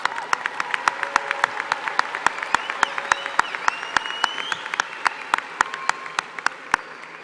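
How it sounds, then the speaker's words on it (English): A graduation audience at Palo Alto College claps in a sustained round of applause, broad crowd clapping with sharp, regular close claps standing out in front and faint tones over it. "Let's give Kevin Vocal another round of applause."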